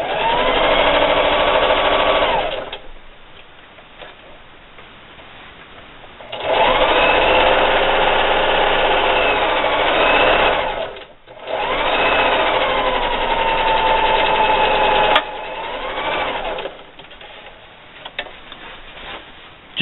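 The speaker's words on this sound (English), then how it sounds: "And just keep sewing." Sewing machine stitching quilt seams on a scrappy shirt quilt, running in steady loud whirring bursts of a few seconds each with brief pauses between them.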